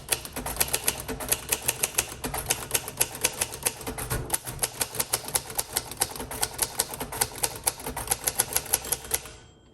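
Rapid keystrokes clatter on a 1953 Royal Arrow manual typewriter, a steady run of sharp clicks filling the clip, close up and alone, ending with a short pause.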